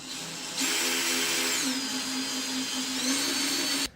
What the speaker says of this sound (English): we're just going to drill through nice and slow.